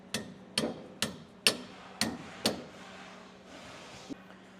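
A hammer taps a half-inch bolt into place while S&B traction bars are fitted to a Silverado/Sierra L5P heavy-duty truck, giving six crisp, evenly spaced metallic strikes, fairly quiet, then one faint final tap.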